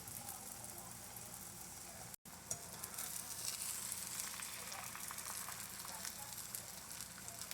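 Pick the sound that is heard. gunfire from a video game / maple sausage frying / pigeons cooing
maple sausage frying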